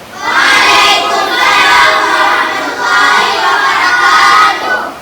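Group 1 of a primary school class gets a loud, continuous burst of applause and cheering from children, dense clapping and shouting sustained for about five seconds with brief dips.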